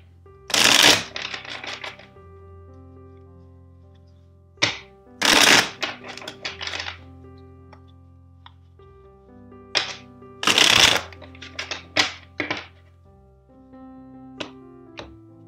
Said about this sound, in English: First, let's shuffle three times for you.